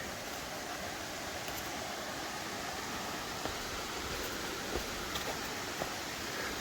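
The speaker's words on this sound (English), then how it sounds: "There's the water. You can just hear it going by." A stream flowing beside the Appalachian Trail near Manchester, Vermont, a steady broadband rushing hiss of water, even and unbroken, with a few faint small clicks nearby and no talking.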